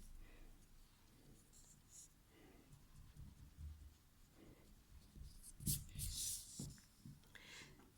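Quiet, soft rubbing of an eraser on paper while a hedgehog drawing is corrected, with intermittent scratchy strokes and a few louder bursts near the end, recorded close.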